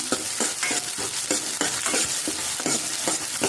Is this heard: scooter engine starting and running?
no